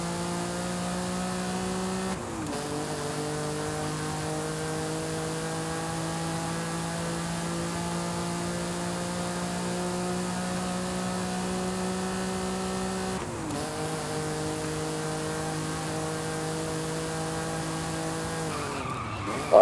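A Lamborghini Countach in Forza Horizon 5 howls along at steady high revs, pitch dipping with two gear shifts, while tires squeal and skid under it, loud and continuous, with no talk.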